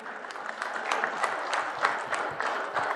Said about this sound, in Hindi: हम चाहेंगे यहाँ इस पंडाल में जोरदार तालियों के माध्यम से हम उनका स्वागत और अभिनंदन करते हैं